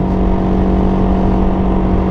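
A Can-Am Ryker 600 engine with an exhaust leak at the rear cylinder, revving steadily and loudly with a harsh, raspy drone close up, no talk.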